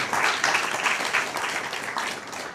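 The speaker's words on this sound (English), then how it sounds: "Give them a round of applause." Crowd applauding a team at a 250th Independence celebration on Long Island, steady lively clapping from many people throughout, easing slightly at the end.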